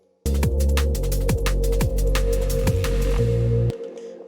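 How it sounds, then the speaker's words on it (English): A short liquid drum and bass musical phrase made in Ableton 11, with sustained, droning tones drenched in heavy reverb, cutting off and leaving a brief fading tail. "I mean, way too much reverb."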